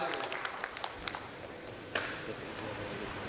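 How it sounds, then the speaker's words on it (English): Audience applause for a speaker joining a digital payments panel, scattered claps at first, then a denser burst of clapping that fades slightly, with a voice talking over it. "Can we have a big round of applause for Nikhil?"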